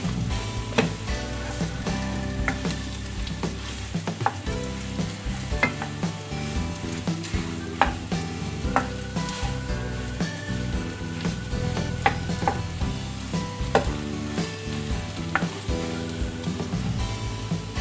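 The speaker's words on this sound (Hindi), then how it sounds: "मैंने थोड़ा सा देसी घी डाला है।" Bread halwa frying in desi ghee and being stirred in a pan, a loud continuous sizzle broken by frequent spoon clicks and scrapes in an irregular rhythm.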